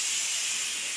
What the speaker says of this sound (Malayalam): ഇനി എന്താ കുക്കർ ഇങ്ങനെ ബിസിലടിച്ചുകൊണ്ടേ ഇരിപ്പുണ്ട്